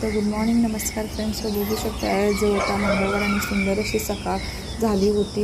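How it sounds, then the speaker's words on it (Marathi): Morning birdsong with chicken-like clucking and calls sounds in the background, heard faintly beneath continuous close speech from start to finish. "माझ्या बॅकग्राऊंडला किती सुंदर हा पक्ष्यांचा आवाज येत होता"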